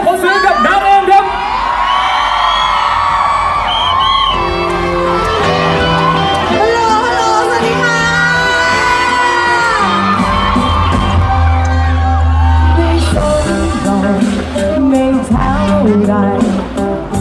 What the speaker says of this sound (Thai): แล้วกรี๊ดดังๆ ต้อนรับทั้งน้ำแล้วก็เอ็มด้วยนะ